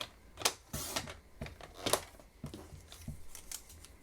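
A paper trimmer or scissors cuts a piece of white paper for card making, heard as several quiet, sharp snips and rustles spread unevenly across a few seconds, close by, in an otherwise quiet room.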